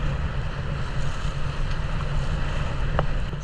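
Sailboat motoring under engine near the Tobago Cays, a steady low engine drone under constant wind noise buffeting the microphone, with faint water wash throughout and no speech.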